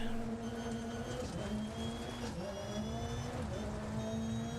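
A rally car in DiRT Rally 2.0 holds a sustained engine drone with shifting pitch as it slides and counter-steers through a corner, steady and moderately loud with no talk.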